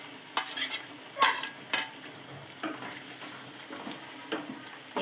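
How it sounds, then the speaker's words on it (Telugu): Curry leaves sizzle in hot oil with onions and chillies while a spoon stirs the pan, giving sharp scraping strokes over a soft, steady frying hiss. "కరివేపాకు సుతం ఇప్పుడు వేస్తాను."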